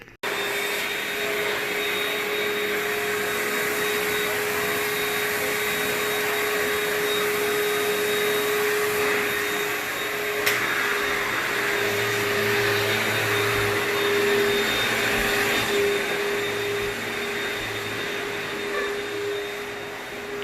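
A vacuum cleaner runs continuously at close range, a loud, even motor whine with a high steady tone, briefly shifting pitch midway.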